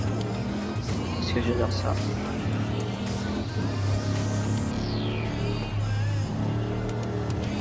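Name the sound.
Range Rover driving in video game Forza Horizon 5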